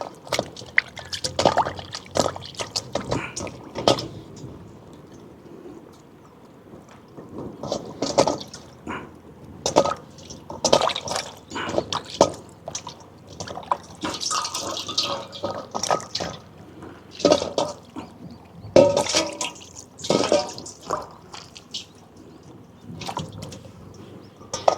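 Raw chicken being rinsed by hand in a container of clean water, with irregular close splashes, sloshes and drips in short bursts throughout.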